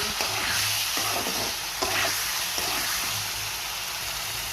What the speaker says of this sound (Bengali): চিকেন শুধু ভাজি করবো। এদিকে একটা দিচ্ছি, সুন্দর করে ভেজে নিচ্ছি।